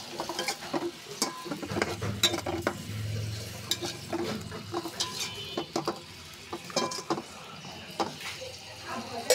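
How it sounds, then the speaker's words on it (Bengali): A chilli and coriander spice paste is stir-fried in a pan, soft sizzling beneath repeated clinking and scraping of a spoon against metal, with someone talking intermittently. "মশলাটা ভালো করে আমি কষিয়ে নেব।"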